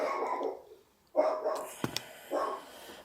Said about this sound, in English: Bandit sees the people continuing down the road, so he keeps barking.